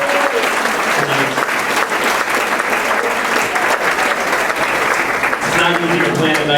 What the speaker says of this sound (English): if we can have a round of applause for everybody with the Sports Association putting on tonight